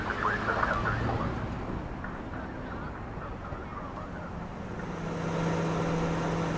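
Steady car and traffic noise, a low broadband rumble with faint honk-like tones rising briefly near the start, continuous and moderately loud throughout.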